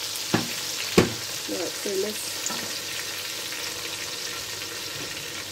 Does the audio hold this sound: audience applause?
no